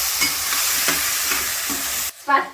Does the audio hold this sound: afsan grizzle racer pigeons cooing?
no